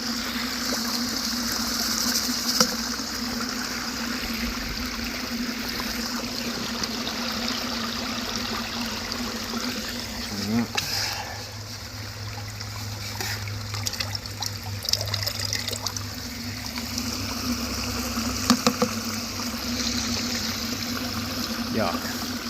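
Water runs steadily through a gold sluice in a creek, a close, continuous trickling rush that lasts throughout. Occasional light knocks and scrapes sound over it.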